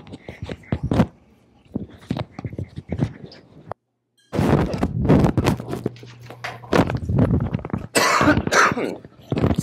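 Harsh bursts of coughing and throat clearing from one person in an indoor room, loud and close, repeating in irregular clusters with a short silent pause partway through.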